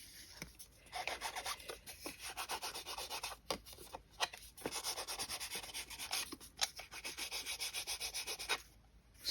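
Paper edges rub and scrape across an embossing ink pad in quick repeated strokes, close and fairly soft, in bursts separated by short pauses, with no talking.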